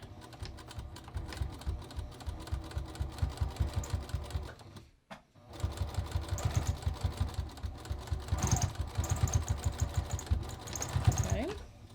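A sewing machine stitches a zipper fly in steady rapid bursts, pausing briefly midway before resuming with a longer run of even stitching; fairly quiet and close, with faint handling noises.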